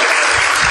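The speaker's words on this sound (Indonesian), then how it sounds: "tepuk tangan buat Pak Cornelius" Brief burst of audience applause for a speaker at a talk, dense loud clapping that fills the moment and carries straight through.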